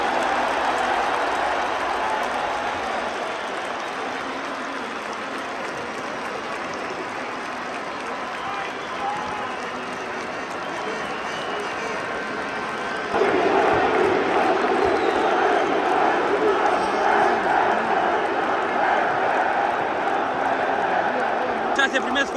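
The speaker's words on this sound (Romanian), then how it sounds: "Așa huiduiel n-am auzit în viața mea." A football stadium crowd of about 15,000 boos loudly and continuously before a Universitatea Craiova match against FCSB, a dense roar that swells sharply louder about halfway through and stays up.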